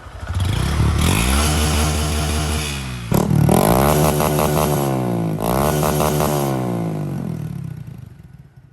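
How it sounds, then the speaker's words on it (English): A 2022 Honda Grom motorcycle with a new exhaust revs hard and loud, holding high and bouncing off its limiter in two long bursts with a brief dip between. "now let's bounce it off that rev limiter"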